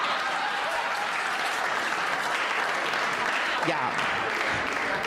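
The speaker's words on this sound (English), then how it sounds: "Listen to the second round of applause kick in." A live comedy audience breaks into a burst of applause that holds steady for several seconds, with a brief spoken exclamation partway through.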